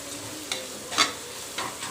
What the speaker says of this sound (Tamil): மசாலா போட்டு நல்லா மிக்ஸ் பண்ணிக்கலாம்.